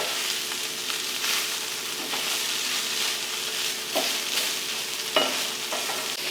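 Onions and minced garlic sizzling and frying in a pan, a steady crackling hiss with occasional stirring scrapes, close and alone without talk.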